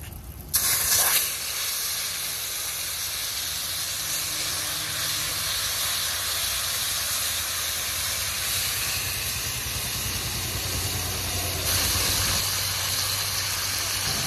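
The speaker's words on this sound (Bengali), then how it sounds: "ভাপা করার জন্য ফোড়নে দেব কালো জিরে আর তেজপাতা।" Black cumin seeds and bay leaves sizzling in hot oil for a Bengali koi fish bhapa, a steady loud hiss of frying that runs unbroken throughout, with a brief sharper crackle near the start.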